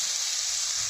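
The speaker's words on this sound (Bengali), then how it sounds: "একটা তেল দিয়ে ভেজে নিচ্ছি" Vegetables fry in oil in a pan while cooking bathua greens, making a loud, steady, close hiss of bright sizzling with no talk.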